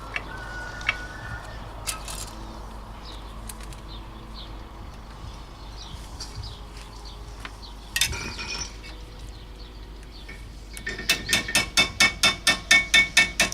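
Hammer blows tap against a screwdriver to knock out front brake pads on a Peugeot 206 1.4 HDi, first as scattered clinks over background noise, then as a fast steady run of sharp metallic knocks near the end.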